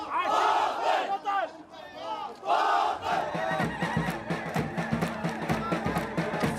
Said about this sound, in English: Defiant crowds have danced and chanted in the face of Iraqi forces